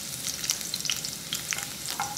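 Finely chopped garlic and dried red chilli sauté in oil with a close, crackling sizzle and sharp pops, plus the rhythmic scrape of stirring, and no voices.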